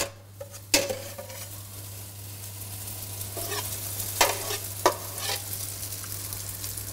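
Omelette batter poured into a small hot blini pan with a little olive oil, giving a steady sizzle with a few sharp pan and utensil clinks scattered through it, no voices.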